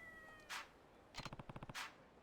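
A cat in the video game Yakuza 3 lets out an unhappy meow, then a fast rattling run of short yowls and another drawn-out meow, fairly quiet and alone.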